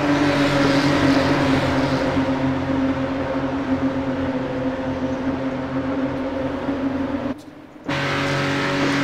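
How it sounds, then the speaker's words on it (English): Porsche Carrera Cup race cars roar together at the start of an iRacing simulation race at Zandvoort, a dense sustained engine drone with a brief drop near the end before the noise resumes, with no talk. "let's see how Michael goes on the start and see if he can get a bit of a gap"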